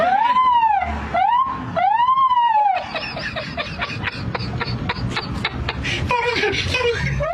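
A voice imitates a police siren through a megaphone, loud wailing whoops up close, followed by rapid choppy yelping bursts.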